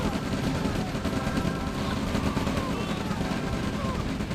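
Artillery and gunfire in the real-time strategy game OpenRA Red Alert, a steady dense rumble of distant explosions and crackling shots under continuous battle noise.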